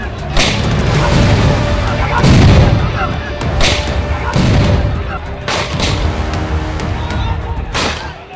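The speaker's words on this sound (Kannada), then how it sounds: "ನೋಡಿ ನಮ್ಮ ಮನೆ ಕಡೆ ಗನ್ ಮ್ಯಾನ್ಗಳು ಶೂಟ್ ಮಾಡ್ತಾ ಇದ್ದಾರೆ" Gunfire during a street clash outside a house in Ballari, a series of loud sharp cracks and booms spaced a second or so apart over a continuous rumble of crowd noise and shouting.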